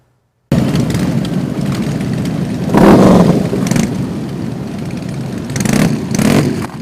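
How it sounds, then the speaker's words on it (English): Motorcycles roaring off at the start of a charity rally parade at a VFW post, a loud continuous engine rumble with revving swells rising and falling, no talk. "The 6th annual Jamie Cox Motorcycle Rally kicked off with a roaring start through a parade of flags and supporters at the Roscoe VFW"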